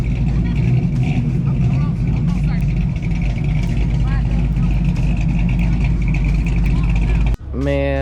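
Ford Shelby GT500 engine idling at an outdoor car show, a steady low rumble running underneath constant nearby chatter, cut off abruptly near the end.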